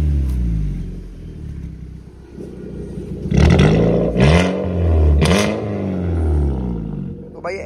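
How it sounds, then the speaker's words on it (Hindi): Modified Hyundai Xcent with an aftermarket exhaust, a loud engine note swelling in two sharp revs over a steady idle rumble, close by, with a voice talking briefly at the start. "तो भाई एग्जॉस्ट सुनाते हैं, पहले ऑफ में सुना दो एक बार भाई।"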